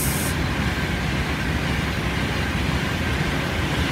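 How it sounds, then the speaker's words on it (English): A Virgin Trains Pendolino passes through Watford Junction on the West Coast Main Line, a loud, steady broadband roar of the tilting electric train running close by for the whole stretch, with no talk over it. "And now passing as well is a Virgin Trains Pendolino off to who knows where."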